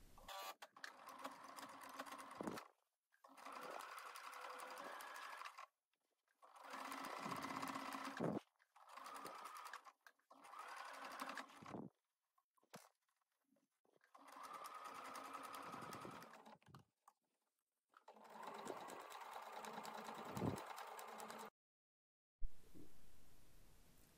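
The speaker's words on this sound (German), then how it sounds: "Und dann wird das Ganze von Nadel zu Nadel zusammengenäht." A sewing machine stitches fabric for a drawstring bag in repeated bursts of steady mechanical whirring separated by short silent pauses, close and moderately loud, with no speech.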